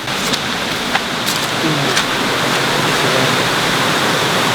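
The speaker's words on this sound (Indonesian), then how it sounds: "kita udah sampai nih di sungai" A river in Bali flows at night, a steady broadband rush of water close by, continuous and fairly loud, with faint scattered clicks and no talk over it.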